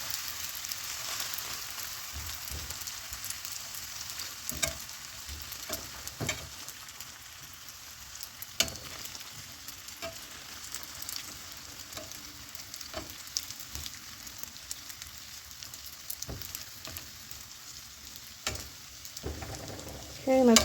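Mexican buñuelos fry in a hot pan with oil, a long close crackling sizzle broken by occasional clicks and light spatter, and no talking.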